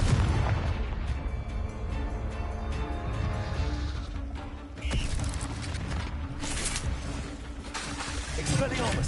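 Confringo blasting spells going off in Hogwarts Legacy combat, a dense run of booming explosions and crackling bursts layered over constant battle noise and music, with a sharp blast near the middle of the stretch.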